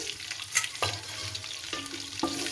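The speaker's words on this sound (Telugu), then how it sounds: "మంచి కలర్ వచ్చే వరకు ఫ్రై చేసుకోవాలి" Onions frying for chicken biryani in a pan with bay leaf, a low continuous sizzle broken by several clinks and scrapes of a stirring spoon, heard up close without talk.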